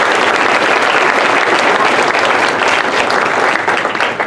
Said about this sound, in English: maybe we could give them a round of applause